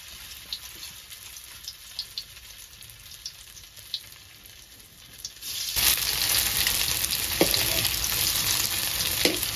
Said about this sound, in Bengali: এভাবে আমি সবগুলা ভেজে নেব।